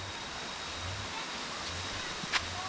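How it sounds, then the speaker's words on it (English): A small jungle waterfall in Phuket gives a soft, steady rush of falling water, with one brief sharp knock near the end. "It looks like there's a small waterfall over here"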